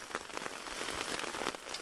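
Rain falling on a campsite during a lakeside hike, a dense, even patter of drops across the whole stretch, soft and steady with no voices.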